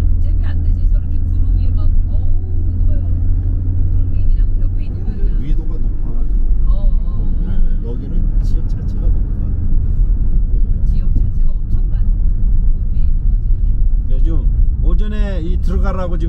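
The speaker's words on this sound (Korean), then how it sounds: "화물차들 엄청나게 들어오네요." Heavy cargo trucks roll past on a mountain road in early December, with a loud low rumble that builds and fades as each passes nearby, while people talk over the traffic.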